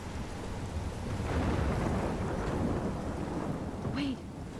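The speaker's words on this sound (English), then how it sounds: "I'm trapped in a storm?" Rain pours steadily in a thunderstorm in the video game Life is Strange. Low thunder rumbles beneath it, and one brief higher tone rises near the end.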